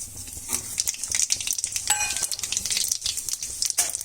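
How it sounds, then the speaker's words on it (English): Mustard seeds and cumin sizzling in hot oil in a pan, with bright crackling pops and spitting over a continuous hiss and a few light metallic clinks. "I have put some oil into the pan. It is already heated up. I'm just adding the mustard seeds and the jeera."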